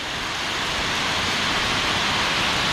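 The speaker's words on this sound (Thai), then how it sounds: "ตอนนี้ มีฝนตกอยู่นะครับ" Steady rain falls in a mountain forest during a wet afternoon on a two-day hiking trip, a dense, even hiss that stays loud and unbroken throughout with no voices.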